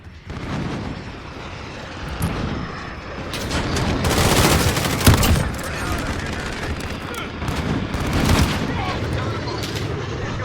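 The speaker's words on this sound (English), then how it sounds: "we're taking some fire" Dense video-game gunfire at a construction site, rapid bursts and heavy booming shots that build and swell loudly, with voices talking over the combat throughout.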